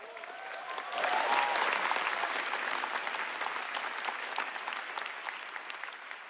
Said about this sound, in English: Everybody give a round of applause to my mom and dad.